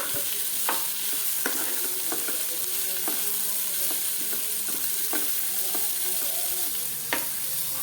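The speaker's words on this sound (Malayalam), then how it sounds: "ഇനി ഇതെല്ലാം കൂടെ നമുക്കൊന്ന് മിക്സ് ചെയ്തെടുക്കാം." Cabbage shawarma filling being stirred and fried in a pan at home, a continuous sizzle broken by sharp scrapes and clacks of a spoon against the pan at irregular intervals.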